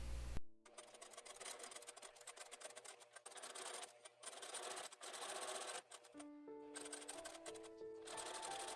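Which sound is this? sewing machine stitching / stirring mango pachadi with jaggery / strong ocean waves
sewing machine stitching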